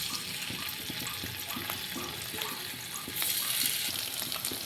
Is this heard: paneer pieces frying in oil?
yes